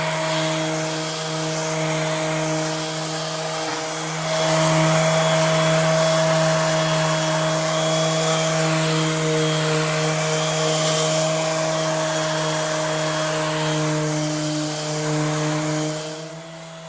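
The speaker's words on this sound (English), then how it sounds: "When you're sanding, it is important that you keep moving the sander" An electric sander sanding wood drones steadily and continuously with a constant tonal hum, slightly louder in the middle, no voices over it.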